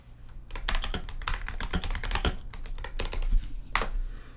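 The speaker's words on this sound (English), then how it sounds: "it's also the Huntsman, so it's that very precise mechanical keyboard, so you hear everything" Rapid, uneven clatter of keys being typed on a Razer Huntsman mechanical keyboard, close and fairly loud, with bursts of keystrokes throughout and no talking.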